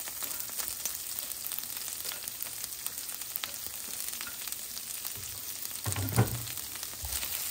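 Corn kernels fry in hot oil in a pan, a continuous close crackling sizzle with a brief louder stir or clatter near the end, no voices.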